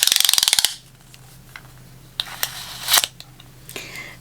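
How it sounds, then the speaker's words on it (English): A metal retractable measuring tape being handled, starting with a rapid burst of sharp ratcheting clicks as the blade retracts, followed by scattered quieter taps and clicks close by. "It is a measuring tape."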